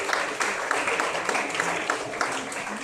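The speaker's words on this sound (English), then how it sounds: "So another round of applause for him" A virtual alumni meetup audience gives a round of applause, dense steady clapping with sharp individual claps throughout, fairly close and without a break.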